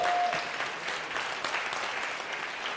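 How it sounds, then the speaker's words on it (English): Audience applause fills the space, a dense wash of clapping that is strongest at first and eases slightly, heard fairly distantly with no voices over it. "give them a round of applause"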